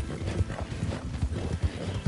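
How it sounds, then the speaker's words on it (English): Horse hooves clip-clop in Red Dead Redemption 2 as a close, regular beat of heavy thuds, loud and unbroken by talk. "Good horse."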